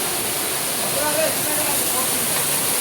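Waterfall near a village, a steady broad rushing hiss of falling water, constant and fairly close, with a faint voice briefly under it.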